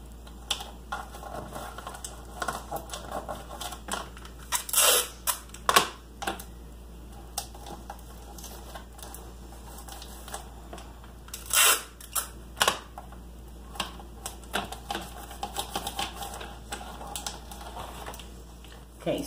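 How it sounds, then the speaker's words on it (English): Adhesive tape is pulled and pressed to hold Halloween wall decor in place, giving scattered sharp rips and taps over a low steady hum, close up and without talk. "I'm just going to tape it into place so it doesn't move"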